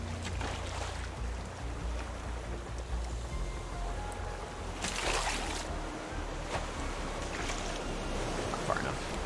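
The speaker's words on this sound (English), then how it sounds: "getting lots of waves right now" Ocean waves lapping and rolling in the survival game Raft, a steady broadband wash with a low rumble and occasional louder surges, continuous throughout with no talk.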